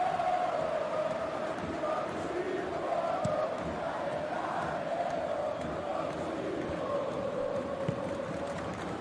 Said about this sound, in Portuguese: A torcida gostou da trama.